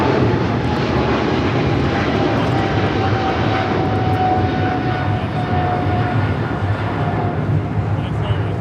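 A passenger airliner taking off at Los Angeles International Airport, a loud steady engine roar that holds throughout.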